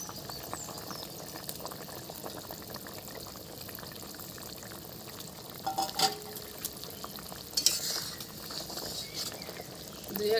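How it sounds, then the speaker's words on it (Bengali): Rohu fish pieces slide into a bubbling drumstick and potato curry, giving a soft splash and stir over a steady simmer, with a few louder clatters near the middle and toward the end. "তরকারিটা ফুটে গেছে, এবার আমি মাছগুলো দিয়ে দিচ্ছি উপর থেকে।"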